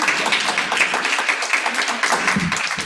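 Audience applause after presenters finish a tech session on Amazon Fire tablets, a dense steady wash of many hands clapping that holds at the same level throughout without a break.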